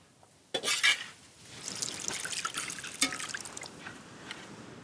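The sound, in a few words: pouring tamarind water into beetroot rasam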